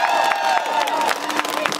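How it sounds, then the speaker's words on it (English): Rally crowd of supporters, friends and families clapping and cheering, loud and close with scattered whoops and shouts over a continuous wash of applause. "Give yourselves a round of applause."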